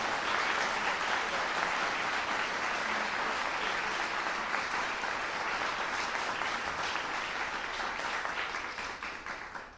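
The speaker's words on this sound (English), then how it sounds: "Let's give another round of applause for varsity brass from the Hickory area." Sustained applause from a competition audience for the varsity brass ensemble from the Hickory area, a dense, steady wash of many hands clapping that fades slightly near the end.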